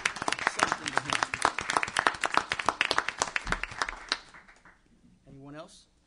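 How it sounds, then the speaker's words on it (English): A live audience at a city meeting breaks into brisk, dense applause for several seconds, then it fades into quiet, and a voice speaks at the end. "I think he deserves a round of applause"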